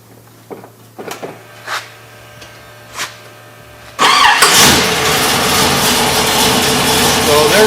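A Chevy K10 pickup truck's engine is cranked after a few scattered clicks and knocks, then catches and settles into a loud, steady idle close by.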